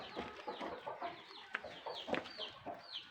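A hen clucks softly and repeatedly while high, thin peeps of chicks chirp over it in quick overlapping calls, close by and fairly quiet.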